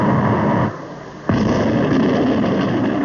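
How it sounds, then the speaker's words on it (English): A large artillery gun fires a single heavy blast that cuts in abruptly after a brief lull, followed by a long rolling rumble with no talking. "This is an atomic cannon of 30 years ago."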